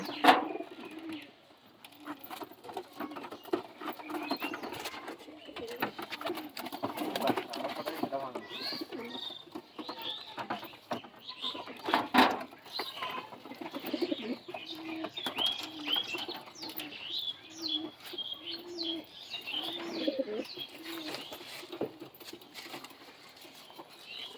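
Madras pigeons cooing in a loft at close range, soft repeated coos mixed with wing patter and light movement throughout, while someone talks over them.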